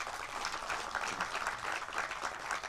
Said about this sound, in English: we must give a very loud round of applause to the